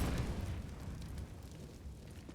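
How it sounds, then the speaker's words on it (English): A Molotov and grenades go off on the Inferno map in a professional Counter-Strike: Global Offensive match, giving a deep, rumbling roar of fire and blasts that fades slightly over the clip, with no talk. "Molotov's on, nades out"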